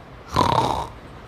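A voice imitates a snore with one short, rasping, throaty snort-like sound, loud and close, surrounded by brief quiet.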